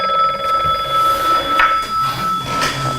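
An old-style telephone rings loudly and continuously at close range, with a trilling bell tone and no talking over it.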